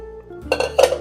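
Boiled peanuts being drained of their water in a metal pot in a home kitchen: a quiet start, then a few sharp metallic clanks and scrapes of the pot and utensil, close and brief.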